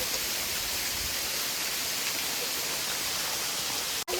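A waterfall roars as a constant broadband rush of falling water, steady and loud throughout with no voices, ending in a brief dropout.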